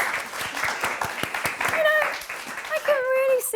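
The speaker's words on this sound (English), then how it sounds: "A round of applause for everyone, please." An audience claps for the players of a game show, a brief burst of scattered clapping mixed with voices and a few whooping cheers.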